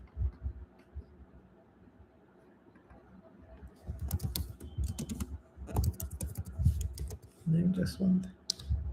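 Typing on a computer keyboard in bursts of quick clicks, close and clear, with a person talking over the keystrokes.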